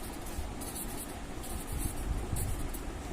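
Pen or pencil scratching out a digit by hand on paper, a steady close rubbing scrawl lasting a few seconds with no talk over it.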